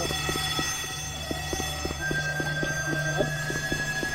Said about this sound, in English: I set an alarm off.